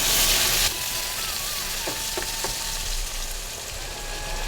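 Cut lemon pieces sautéing in a pan for lemon chutney, a steady moderate sizzle with a brief louder burst at the start and a few soft stirring knocks, no talk.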